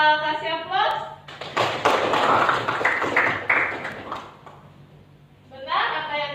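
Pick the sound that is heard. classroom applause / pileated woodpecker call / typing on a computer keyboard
classroom applause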